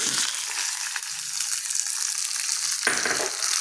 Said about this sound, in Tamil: சட்டி சூடாகிடுச்சு பேனு எண்ணெய் ஊற்றிருக்கேன் கடுகு உளுந்தம் பருப்பு காந்த மிளகா போட்டுக்கிறேன் கருவேப்பிலை போட்டுக்கிறேன்